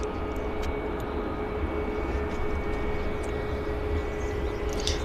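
Porter Airlines Embraer jet inbound from Toronto landing at Vancouver airport, a steady distant engine roar with a low rumble and a thin whine, heard from afar without talk.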